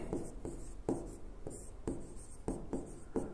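Chalk or marker strokes on a board during a Hindi physics class on electricity, a steady series of short scratchy writing strokes, close and fairly clear, with no talk over them.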